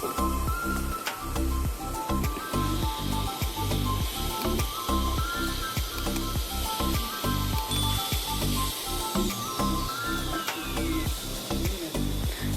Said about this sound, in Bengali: দেখো ভালো করে ভাজা ভাজা হচ্ছে।